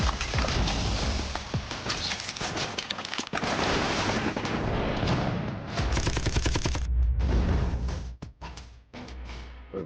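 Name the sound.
missiles and gunfire in a video game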